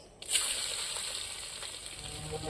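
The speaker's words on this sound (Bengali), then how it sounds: "এখন তেলে ফোড়ন দিয়ে দেবো আমি একটু রাঁধুনি, রসুন থেতো করে নিয়েছি।" Radhuni seeds and crushed garlic hit hot oil with a sudden loud crackle that settles into a steady bright sizzle, close and continuous, no talk over it.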